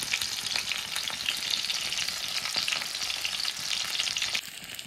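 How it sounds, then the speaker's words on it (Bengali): Lentil fritters (bora) deep frying in hot oil give a steady, dense sizzle and crackle, close and continuous with small popping bursts, with no voices present. "তো বড়া আমার একদম ভাজা কমপ্লিট"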